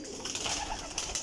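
Pigeons in a breeding loft make soft, continuous cooing with a steady murmur close by.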